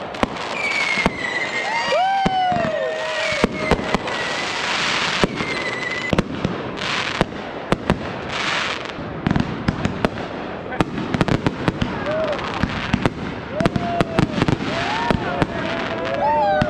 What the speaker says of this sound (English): The end of the night, no better way to celebrate than with some fireworks.